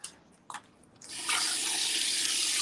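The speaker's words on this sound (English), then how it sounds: "I'm going to turn my camera over so you can see me getting the water." Water from a kitchen tap starts running into a wine glass at the sink after a couple of soft clinks, then pours steadily and loudly in a constant hiss, with no voices.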